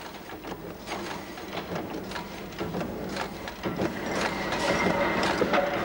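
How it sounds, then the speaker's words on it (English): A press chops metal cutlery blanks out of sheet at enormous pressure, making a continuous rhythmic mechanical clatter and whir that builds slightly louder toward the end, with no talk. "The basic shape of each piece is chopped out by bringing two tools together at enormous"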